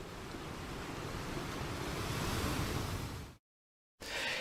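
Deep undersea ambience: a broad, steady wash of low rumbling water noise with a faint surf-like roar, filling the scene evenly before cutting out abruptly near the end and briefly returning.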